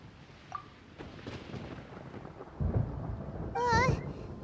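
Thunder in Genshin Impact, a low rolling rumble building to a heavier crack over steady rain-like noise, with a short high warbling sound near the end.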